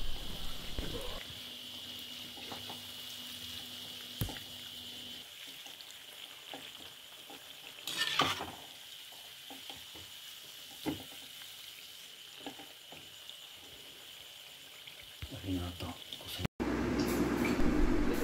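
Athirasam, a sweet dough disc, fries in oil over a medium flame, giving a soft, continuous sizzle with occasional scrapes and clinks of stirring, fairly quiet and close, with brief sharp handling noises near the end.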